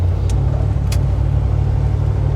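A 1955 Ford Fairlane Crown Victoria with its original 272Y V8 cruises along, giving a steady, close low engine drone and road rumble with no change in level.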